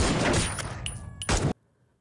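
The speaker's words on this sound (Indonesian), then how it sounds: "Yogi memberondong peluru kepada Seni hingga tewas." Gunfire in a film, a rapid burst of shots fired at a person, loud dense crackling volleys with a brief dip and a final blast before cutting abruptly to silence.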